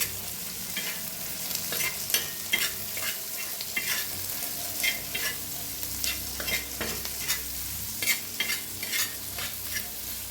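Tomatoes frying in a pan with turmeric and red chili powder for an egg curry, with a steady broadband sizzle and repeated scraping spoon strokes at an irregular rhythm, close and moderately loud, no voices.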